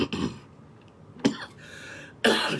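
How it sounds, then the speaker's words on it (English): A man coughs three times in short, separate bursts, each harsh and close, with brief quiet gaps between them. "Damn, I'm coughing."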